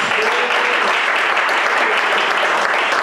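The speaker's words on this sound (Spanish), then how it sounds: "¿Cuánto le dan palmas al Señor? Dale palmas." Church congregation clapping for the Lord during a sermon, a dense steady wash of many hands that holds loud and continuous throughout with no gaps.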